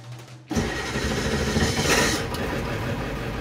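After a brief quiet whir, the 7.3 Powerstroke diesel in a Ford E-350 van cranks and catches on an Odyssey PC1750T AGM battery, settling into a loud, steady close-up rumble.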